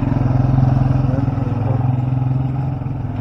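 A motorcycle engine idles steadily nearby at night, its low, even rumble pulsing throughout with a loose clattering texture and no voices.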